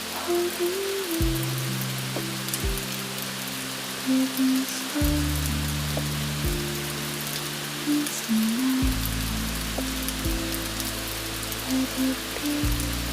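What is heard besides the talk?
rain at night in Tokyo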